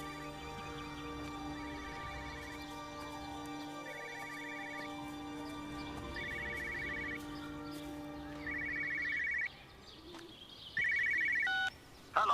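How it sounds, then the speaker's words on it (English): A telephone rings repeatedly in a quiet, ransacked 1980s-era village house in the game Everybody's Gone to the Rapture, bursts of electronic trilling over a steady ambient drone and soft background tones. "Another phone, I hear it."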